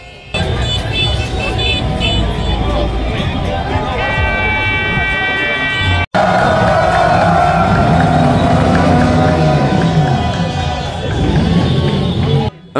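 A dense crowd celebrating a PSG victory fills a Paris street, blocking traffic, with steady loud cheering, chanting and car and truck horns honking throughout, voices mixed in close and continuous.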